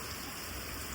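Heavy rain pouring steadily in a thunderstorm, a dense continuous broadband hiss of drops on surfaces, loud and unbroken with no voices.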